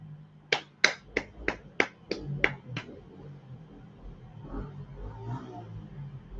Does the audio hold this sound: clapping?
yes